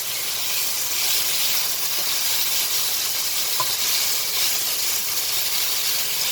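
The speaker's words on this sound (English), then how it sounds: "I'm going to completely fry them" Potatoes deep-frying in hot oil for potato noodles, a steady, dense sizzle and hiss that holds level throughout with no voices, close and fairly loud.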